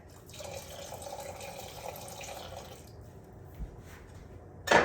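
About two-thirds of a cup of water pours from a kitchen faucet into a pan for beef stroganoff, a soft steady splashing stream that stops midway and ends with a brief clatter.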